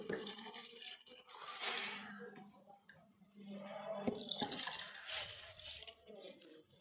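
Water being poured off during the making of liquid detergent, heard as a continuous splashing trickle into a container with a voice talking over it.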